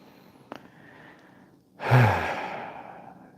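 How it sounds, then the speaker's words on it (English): A single slow, deep breath drawn in and released during a guided calming exercise, a soft rushing exhale that swells loudly and fades, with a faint click just before it. "Take one deep breath with me right now."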